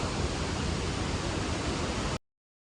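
A waterfall on the Gosainkunda trek in Nepal gives a loud, steady, broadband rush of falling water that stops abruptly near the end, with no voices.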